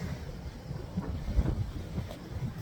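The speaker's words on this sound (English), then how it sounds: "Just wish it wasn't so windy" Steady wind rumbles and buffets the microphone in low gusts at a memorial park in Hollywood, California, with a soft roar and no voices.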